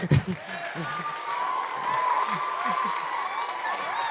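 A crowd claps and cheers steadily at a school winter concert, a broad wash of applause with a few voices rising over it.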